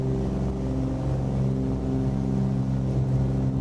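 A steady Cessna 414 twin piston-engine propeller drone in Microsoft Flight Simulator, with strong low harmonic tones, continuous and fairly loud, holding a constant pitch throughout with no voices.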